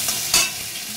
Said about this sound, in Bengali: একটু হলুদ, একটু নুন দিয়ে একটু ভেজে নেব পনিরগুলো।